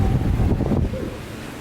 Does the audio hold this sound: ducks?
no